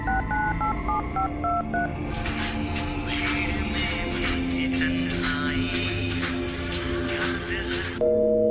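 A mobile phone call goes unanswered: a short run of dialing tones gives way to a repeated, steady electronic busy signal pulsing at a regular rhythm, clear and close, with no voices.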